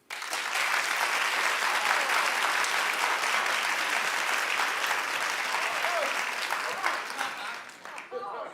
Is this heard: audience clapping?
yes